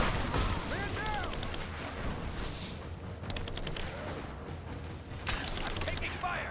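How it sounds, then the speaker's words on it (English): Sustained gunfire from the video game Rise of the Tomb Raider, rapid volleys and bursts rattling throughout at steady loudness, with voices shouting in the mix. "I'm taking fire! Give me covering fire!"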